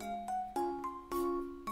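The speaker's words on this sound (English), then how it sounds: "The school bell rings." A school bell chimes in clear, ringing tones, struck about six times in a stepped ding-dong pattern, each note sustaining before the next, heard close with no talking.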